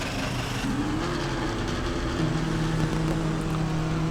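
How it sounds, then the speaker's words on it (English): A GP2 race car engine starting in a Roblox racing game: a steady mid-pitched drone with rising tonal whines as the engine fires and settles into a continuous close, loud idle, with no voices. "I just need you to hear the engine of this car starting once again."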